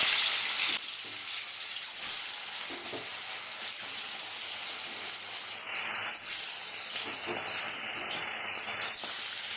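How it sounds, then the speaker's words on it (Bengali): Fish frying in hot mustard oil in a kadai, giving a steady, close sizzling hiss that runs the whole time with no voices over it. "মাছগুলো ভেজে নেবো লাল লাল"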